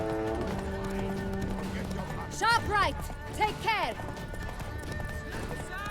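A horse races at a gallop in The Witcher 3, its hooves beating a steady clip-clop while it whinnies loudly several times, close by, under a shouted voice giving directions.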